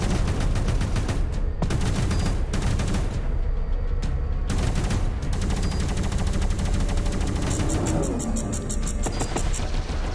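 Spaceship cannons in the space game Space Reign fire in dense, rapid bursts, a loud continuous barrage of gunfire with booming impacts and a rising whine near the end, no voices over it.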